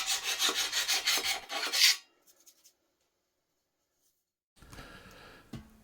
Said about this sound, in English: Now the fun begins. Sanding.